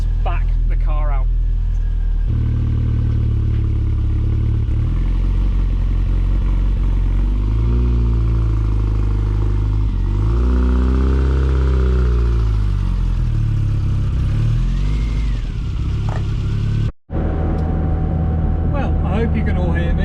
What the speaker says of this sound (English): Right, let's back the car out.